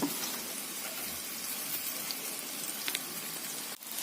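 Bora fritters fry in a pan with a steady, dense sizzle that runs unbroken throughout, close and moderately loud, with a brief dip near the end.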